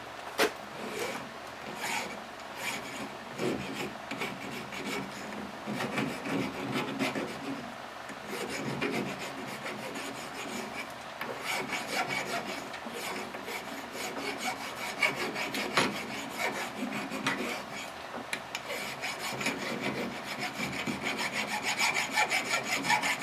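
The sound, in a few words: metal file deburring a motorcycle part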